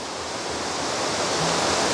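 A waterfall in a rocky outdoor landscape gives a steady, dense rushing roar that holds evenly and swells slightly louder toward the end, with no other sounds over it.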